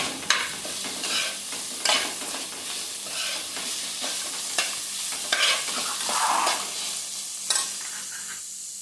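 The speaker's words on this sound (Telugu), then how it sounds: "అడుగు మీద కలపాలి, బాగా కలిసేలా" A spoon scrapes and stirs arati puvu (banana flower) curry in a pan, salted, with a steady bed of sizzling and repeated louder scraping strokes across the bottom, close and alone with no talk.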